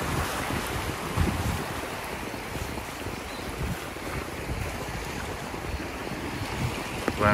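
Ocean surf along the steep, cliff-lined coast of Katsuura, Japan, roars steadily with heavy wind buffeting the microphone, a dense, constant wash of waves without speech.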